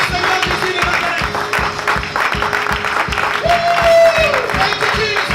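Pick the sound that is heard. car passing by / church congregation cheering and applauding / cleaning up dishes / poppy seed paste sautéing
church congregation cheering and applauding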